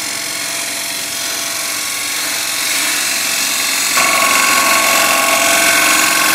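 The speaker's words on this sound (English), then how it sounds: "Now we're cutting, so we're not scraping anymore." A wood lathe turning a scrap-wood bowl as a gouge cuts the timber, a steady loud whirring hiss that thickens and grows slightly brighter and louder partway through, alone with no talk.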